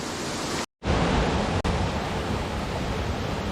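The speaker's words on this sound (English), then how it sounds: "the water flow is still pretty strong" Creek water rushing over rocks as a constant, loud broadband wash close to the microphone, briefly cutting out once near the start.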